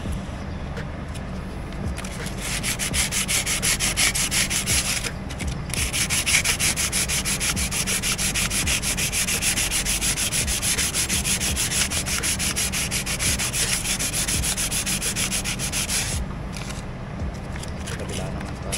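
Steady, rapid scratching of sandpaper rubbing back and forth on a bicycle brake part, close and continuous, with brief pauses near the start and end.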